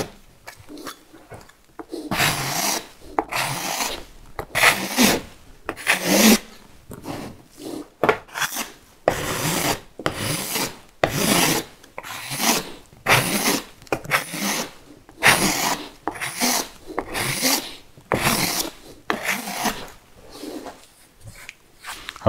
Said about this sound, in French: je profite pour passer un petit coup de racloir